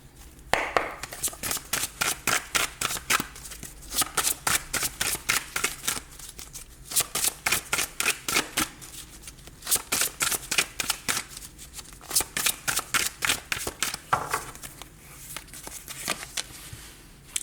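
Oracle de la Triade cards are shuffled in repeated quick bursts of riffling and slapping, close and crisp, pausing briefly between rounds.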